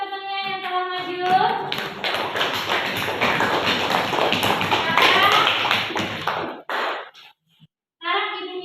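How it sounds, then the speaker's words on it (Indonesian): Classroom applause for a classmate who has presented, a dense burst of many hands clapping for about five seconds, with children's and a teacher's voices just before and after. "Tepuk tangan buat temannya yang telah maju."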